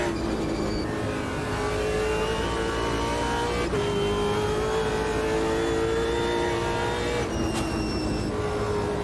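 Race car engine in the Automobilista 2 racing game at Bathurst, short shifting with steady high revs, a couple of sharp gear changes, loud and continuous with no talking.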